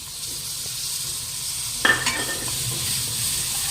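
Golden-browned onions sizzle steadily in a pan while a spoon stirs them, with one short clattering scrape against the pan partway through and a continuous frying hiss throughout.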